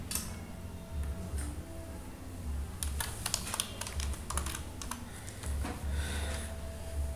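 Typing on a computer keyboard, with bursts of rapid close clicking separated by short pauses, fairly loud and with no talk.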